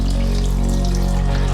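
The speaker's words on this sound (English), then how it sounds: "run some water into the head" Tap water runs steadily into the head of an Oral-B iO Series 8 electric toothbrush, a loud, close, continuous splashing rush with a low hum beneath it.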